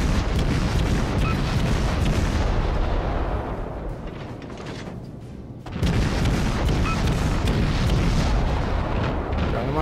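Warship guns firing in World of Warships, heavy booming salvos and explosions rolling together into a loud, dense roar that briefly eases before another thunderous burst.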